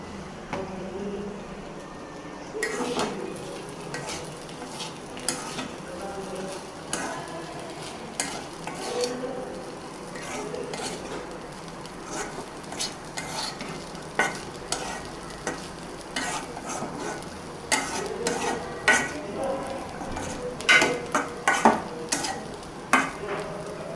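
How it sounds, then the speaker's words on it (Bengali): Salted meat sizzles steadily in a pan while a spoon stirs and scrapes through it, giving repeated close metallic clinks and scrapes over a continuous frying hiss, with no talk. "এখন লবণ দিয়ে আবার জাল দিলাম।"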